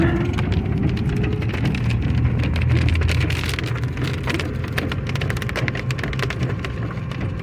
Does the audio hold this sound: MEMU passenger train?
no